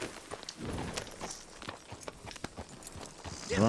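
Horse hooves clip-clopping in the video game Red Dead Redemption 2, irregular soft thuds at a walking pace, fairly quiet, with a brief louder sound at the end.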